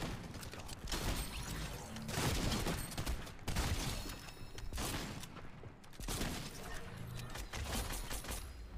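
Rapid bursts of video game gunfire crackle in dense volleys over nearly nine seconds, loud and continuous with brief gaps between strings of shots.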